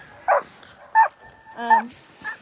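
Sled dogs at the Tolsona Lake race checkpoint of the 2022 Copper Basin race in -40F cold give several separate yips and barks with short howl-like cries, close by and loud against a quiet snowy background.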